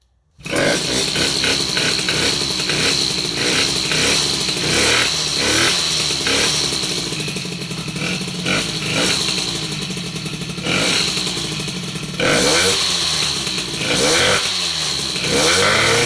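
An MBK 51 moped fitted with a Malossi carter and a 140 jet runs loud and close, its two-stroke engine buzzing steadily and rising and falling through repeated revs for about sixteen seconds.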